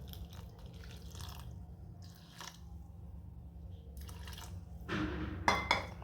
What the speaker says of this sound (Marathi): यामध्ये थोडं आपण कोमट पाणी घालून घेऊ।